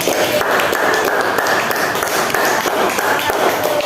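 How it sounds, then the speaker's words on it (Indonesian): A classroom of students claps for a student group in a primary school lesson, producing a dense, loud, steady burst of applause throughout, with some voices mixed in. "Oke, beri tepuk tangan untuk kelompok ini."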